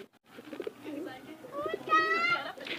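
Pigeons coo steadily at close range, their soft throaty calls overlapping and rising into a louder, rolling coo near the end.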